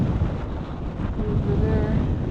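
Wind blowing hard across the microphone on a hike in the Guadalupe Mountains, a steady loud rumbling gust without a break.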